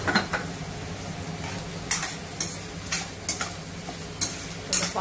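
Onions with salt sautéing in a pan for mutton leg paaya: a steady soft sizzle broken by several sharp scrapes and clinks of a spoon stirring against the pan, no talking.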